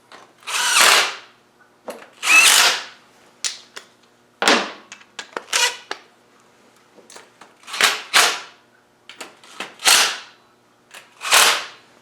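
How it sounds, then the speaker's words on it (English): A power tool spins bolts down on a Land Rover 300Tdi engine in short, sharp bursts, about eight separate whirring runs with quiet gaps between them, close and fairly loud. "I'm just going to whiz those bolts down"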